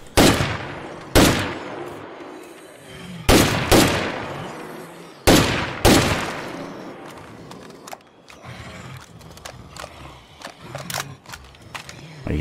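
Gunfire at a zombie horde in State of Decay 2: several loud, close shots in quick pairs and singles, then quieter scattered clicks, thuds and rattling.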